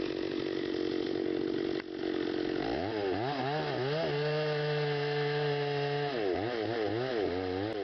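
A chainsaw fells redwood and fir trees, its engine droning loud and steady throughout, then rising and falling in pitch as the throttle revs and the chain bites into the wood.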